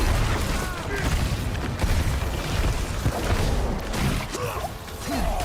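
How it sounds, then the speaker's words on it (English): Small fire explosions from a level 100 Barbarian's burning berserk build in Diablo 4, a dense run of muffled booms and crackling bursts layered over steady game music and combat noise. "There's little fire explosions."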